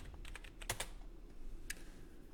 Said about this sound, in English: you go to Google and you type Okta